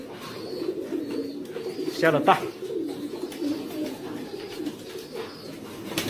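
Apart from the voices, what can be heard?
racing pigeons cooing in loft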